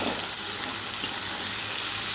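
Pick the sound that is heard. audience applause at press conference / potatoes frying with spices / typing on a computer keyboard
potatoes frying with spices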